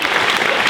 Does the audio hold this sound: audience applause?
yes